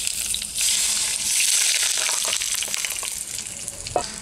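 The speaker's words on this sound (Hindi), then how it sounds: "अब ऑयल इसमें डाल देंगे।" Hot cooking oil poured into a pan for Korean garlic-seasoned potato noodles, hissing into a loud, steady, close sizzle that runs throughout, with a brief clink near the end.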